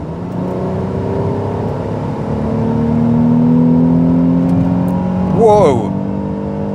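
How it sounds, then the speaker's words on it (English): A turbo diesel car accelerates on a national speed limit road, its engine note rising steadily under the cabin, then swelling briefly as a driver exclaims near the end. "The turbo diesel is all about the torque, really, but oh, that sounds sonorous"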